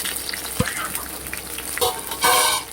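Dried red chillies and onion sizzle and crackle steadily in a hot pan, a loud continuous frying hiss with a few scraping stir sounds.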